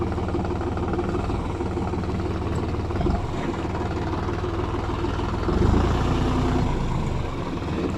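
A New Holland T580B tractor engine under load on the road and up a ramp, a steady heavy low diesel drone close by that swells briefly near the end.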